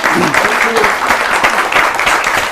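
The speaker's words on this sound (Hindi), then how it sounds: "एक बार जोरदार तालियां बजाइए" Loud audience applause at a Holi poetry gathering on a televised stage, a close, dense roar of many hands clapping, with a voice speaking briefly over it at the start.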